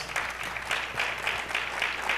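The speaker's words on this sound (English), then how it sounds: "Give John a round of applause." Applause for a panelist at an education summit, a brief burst of many hands clapping at an even pace with a faint crowd murmur beneath it.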